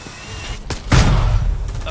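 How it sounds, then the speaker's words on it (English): A grenade goes off during a bank heist in Payday 3, a single heavy boom close by that trails into a rumbling tail, with voices underneath. "Oh my god! Grenades!"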